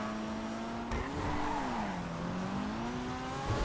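A Pfister Growler sports car's engine drones steadily in GTA Online, the pitch rising and dipping as the revs swell and fall, heard at a moderate distance with no talk over it.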